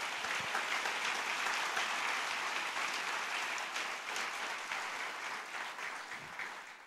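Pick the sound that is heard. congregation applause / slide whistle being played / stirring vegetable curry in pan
congregation applause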